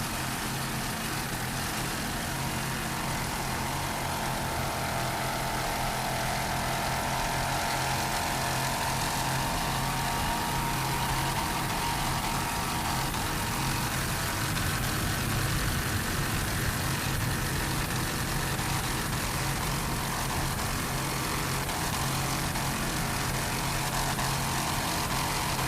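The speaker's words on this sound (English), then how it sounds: "Mercruiser powered, 2 500 horsepower Mercruiser engines." Mercruiser engines rated at 2,500 horsepower drive offshore racing powerboats in a marathon grand prix, a constant loud roar and drone that holds steady from start to finish without a break, with no voices.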